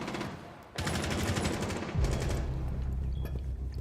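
Sustained automatic gunfire from Thermite's gun in the video game Rainbow Six Siege, loud, dense and continuous, with a short lull and then another burst over a heavy low rumble.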